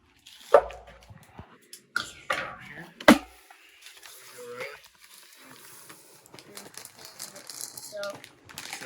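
Packaging of a Team Associated B6 RC builder's kit being cut open, with crinkling plastic and sharp snips or taps close by, while a person talks over the handling.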